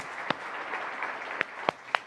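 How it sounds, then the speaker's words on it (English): Scattered clapping in a devotional gathering, with a handful of sharp individual claps standing out over a soft, steady wash of audience noise for about two seconds; fairly quiet overall. "So let's give them an applause."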